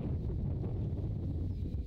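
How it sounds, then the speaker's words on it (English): Wind blows steadily across an outdoor golf course, a continuous low rumbling buffet against the microphone with no break and no voices. "as the wind dies down a little bit"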